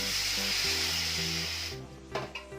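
Water poured into a pan of frying eggplant with salt and turmeric sets off a loud steady sizzling hiss, with background music, fading near the end into softer clatter.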